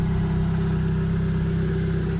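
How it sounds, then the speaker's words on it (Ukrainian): A used car's engine idles smoothly and quietly, a low, even hum with a steady rhythmic pulse and no revving, heard close and alone with no talk. "двигун працює дуже тихенько, рівненько, майже не чутно його."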